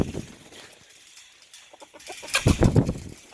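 Backyard chickens cluck and stir close by, a quiet stretch breaking into a louder burst of clucks and shuffling with a possible wing flap near the end.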